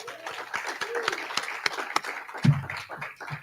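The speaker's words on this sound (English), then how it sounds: "let's give Karen, Reverend, a round of applause for her last message here." A gathering applauds a reverend after her last message as a guest speaker, with moderate, scattered clapping from a modest crowd and voices talking through it.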